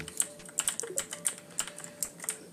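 Rapid, irregular clacking of a computer keyboard, its keys apparently sticking, in a steady run of close, crisp keystrokes with no voices over it.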